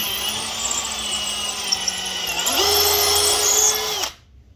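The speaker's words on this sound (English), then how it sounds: "Let's re-drill this hole here." A power drill re-drills a hole while building a 40 breeder aquarium rack, its motor whining steadily, rising in pitch as it speeds up, then cutting off abruptly.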